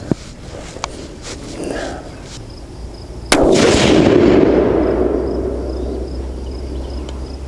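A single loud, close rifle shot from a Savage 12FV firing Hornady 178g ELD-X loads cracks out sharply, then rolls into a long echoing tail, with a few faint knocks before it.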